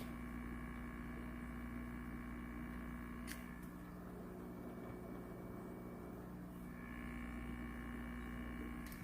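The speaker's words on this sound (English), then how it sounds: "that's the pump running in comparison to my air pump." An Aquatop CF500UV canister filter pump runs with a steady, low electrical hum, continuous and quiet, with a couple of faint clicks near the middle and toward the end.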